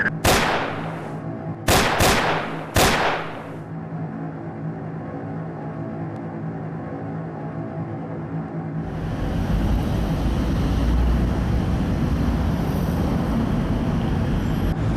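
Gunfire at a riot shooting: three sharp, loud cracks in quick succession at the start, followed by a sustained rumbling roar of noise and no voices.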